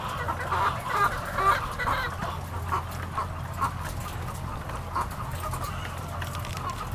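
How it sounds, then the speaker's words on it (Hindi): Many layer hens cluck and murmur together while eating feed in cages on a poultry farm in Pakistan, a dense continuous chorus heard close with a low mechanical hum underneath. "यहाँ पर भी देखें आप, मुर्गियाँ काफ़ी जो हैं वो खुराक खा रही हैं सारी"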